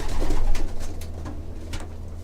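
Pigeons in a clean breeding loft with nest fronts closed, cooing and fluttering their wings in several brief flaps over a steady background hum.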